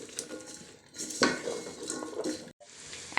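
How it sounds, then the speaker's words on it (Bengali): A spoon scrapes and clatters against a pot as spices for vegetable khichuri are stirred, with irregular metallic knocks and scraping strokes close by and a brief pause near the end. "দিয়ে এখন একটু নেড়ে দিব।"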